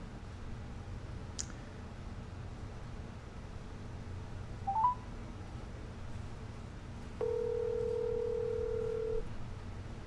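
A phone dials out: a couple of faint key clicks and short beeps, then a steady dial tone holds for about two seconds near the end, over quiet room hiss.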